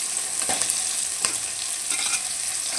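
Tomatoes fry in a pan with sautéed onions for a home-style fish curry, giving a steady loud hiss with occasional stirring scrapes and light taps, close and continuous, with no voices.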